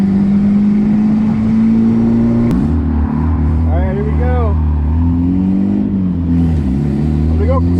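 A turbocharged D16-swapped Suzuki Vitara accelerates hard, its engine roaring loud and close while the pitch climbs, drops at a gear change, then climbs again, with turbo whistles and flutter over the drone.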